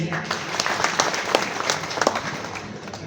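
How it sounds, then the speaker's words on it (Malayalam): An audience applauds at a stage music programme, with steady clapping lasting a few seconds at moderate volume and a faint murmur of voices underneath. "കൂടെ വന്നവർക്കും വലിയൊരു കയ്യടി"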